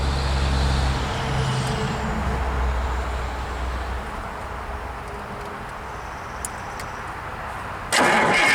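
A 1977 Freightliner cabover truck's engine cranks over on the starter after sitting for a year. The cranking churns loudly for about two seconds, then settles into a steady rumble, and a sharper burst comes near the end.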